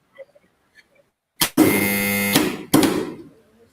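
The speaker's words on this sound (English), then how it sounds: "Swaray, please test your buzzer." A quiz buzzer tested at a school quiz contest: a loud click, then a sustained harsh electric buzz lasting about a second, ending with another click and a brief clatter, heard alone in a quiet room.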